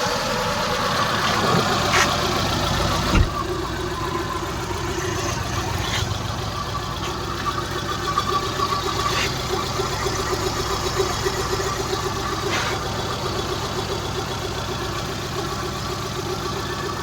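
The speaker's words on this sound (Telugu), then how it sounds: "ఇంజన్ కండిషన్ అయితే చాలా స్మూత్ ఉంది" A 2007 Hyundai Santro Xing XO engine idles steadily and close by, a smooth even hum with faint clicks and a brief knock, no voices.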